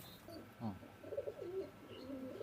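Pakistani Teddy pigeons coo softly and repeatedly, faint and fairly close, over a low background hum.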